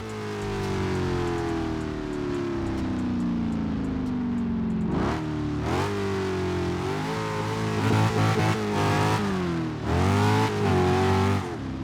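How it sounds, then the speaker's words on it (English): An Audi RS7 fitted with a swapped RS6 engine revs in the CarX Street racing game, a loud, close engine drone that falls steadily, then climbs through repeated sharp rev surges and gear changes. "I did have to swap the RS6 motor into this thing because it just sounds so much better"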